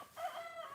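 Domestic hen clucking in a backyard flock on a calm morning, a short run of close, moderately loud calls with a slightly raspy, rising tone.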